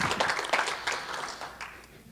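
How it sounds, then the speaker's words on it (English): Audience applause at a Penobscot Nation gathering honoring a tribal ambassador, a soft, fairly distant burst of many hands that swells briefly and then tapers off, heard alone without speech. "So another round of applause for Ambassador Smith."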